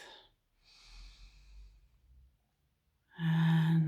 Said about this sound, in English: Now I want you to take a deep breath in